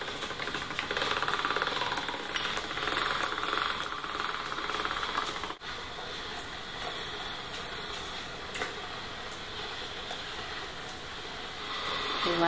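Pasta dough being fed through the rollers of a hand-cranked pasta machine, giving a steady, close mechanical ticking and whirring that runs continuously, with a brief break partway through, in a home kitchen.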